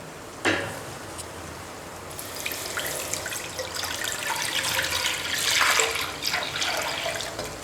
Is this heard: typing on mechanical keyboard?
no